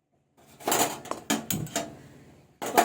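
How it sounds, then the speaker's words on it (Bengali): A kadai (wok) set onto a home stove while cooking a jujube chutney: several close metallic clanks and knocks, a burst of them, a pause, then another clatter at the end, with no talking. "এবার আমি কড়াই বসিয়ে দিয়েছি।"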